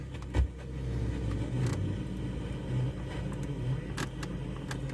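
Idling engine of a used car with 116,000 miles, carrying an odd noise suspected to be a clutch release bearing; a steady low rumble with a faint cyclic whir and a brief knock near the start, heard up close.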